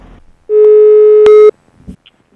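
A single steady telephone line tone sounds during a phone call, a loud pure beep lasting about a second, with faint background noise before and after.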